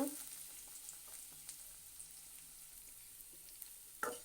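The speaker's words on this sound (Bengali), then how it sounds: "এবার দুটো পেঁয়াজ কুচি দিয়ে দেব।" Chopped onions frying in oil in a pan for an ilish curry with potato and aubergine, a faint steady sizzle with light scattered crackles and a sharper clatter near the end, no voices.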